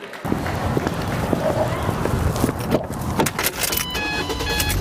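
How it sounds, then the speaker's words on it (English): A car engine is started and left running, a steady close mechanical rumble that holds level throughout with some faint extra noises near the end. "When you start your car, hopefully it sounds something like this."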